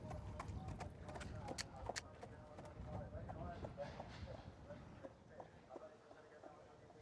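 Horse hooves clip-clop in a steady jogging rhythm as the animal is shown at a bloodstock sale, fairly faint and distant with a busy crowd murmur around it and people talking.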